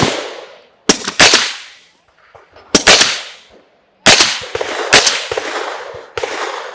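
Rifle fired through a Primary Weapons Systems BDE suppressor: several sharp cracks, some paired in quick succession, each trailing off in a long reverberant decay outdoors, loud and near with pauses between shots.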